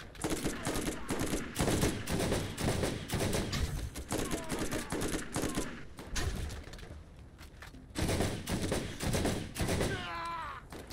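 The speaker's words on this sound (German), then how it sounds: "Ballern die sich gerade gegenseitig, oder was ist falsch bei denen? Ne, die ballern gegen den Berg." Enemies firing guns in the Borderlands video game, with dense bursts of rapid gunfire repeating through most of the scene, a short lull, then more volleys, while players talk.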